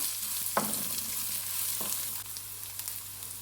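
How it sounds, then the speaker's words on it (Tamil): Onions and green chillies sauté in a pan for cabbage poriyal, a steady hissing sizzle with two soft stirring scrapes, close and moderately loud, without speech. "இப்போ வெங்காயம் சேர்த்துட்டு ஒரு 2லேருந்து 3 நிமிஷம் நல்லா வதக்கி விட்டுக்கலாம்."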